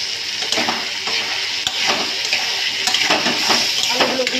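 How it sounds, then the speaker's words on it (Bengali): Potato pieces sizzle and crackle in hot oil in a pan while a spoon stirs them, with scraping and clinking against the pan at an irregular rhythm and continuous frying hiss underneath. "এখন আমি এই যে আলুগুলো আছে আলুগুলো দিয়ে দিলাম। আলুগুলো দিয়ে কিন্তু আমি নাড়াচাড়া করে নেবো ভালো করে।"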